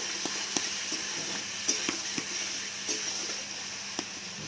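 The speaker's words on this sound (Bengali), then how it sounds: "চিংড়িগুলো আমি তেলে দিয়ে চিংড়িগুলো আমি ভাজতে থাকবো।" Shrimp rubbed with salt and turmeric fry in hot oil with a steady, even sizzle. Occasional soft clicks and pops sit on top of the constant hiss.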